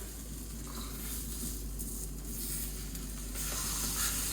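Protein pancakes sizzling in a frying pan, a steady, soft hiss of frying that stays even throughout with no talking, close but fairly quiet.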